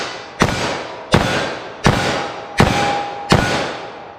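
Five loud, sharp .357 Magnum shots fired from a handgun with Federal Train + Protect ammunition at a steady, fairly quick pace. Each crack is close by and leaves a short decaying ring before the next.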